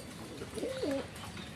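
Blacklace Satin pigeons at a pigeon seller's loft give a single soft, mellow coo lasting under half a second, fairly close and clear above a steady hiss of background room noise, with no voices.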